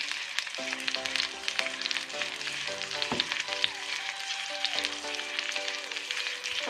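Pork knuckle sizzles in hot oil in a pan with a constant crackling hiss, while soft tonal background music plays underneath throughout.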